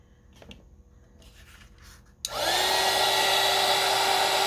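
A heat gun blasting hot air onto book page ephemera for heat embossing switches on abruptly partway through, then holds a loud, steady broadband roar to the end after a few quiet faint rustles.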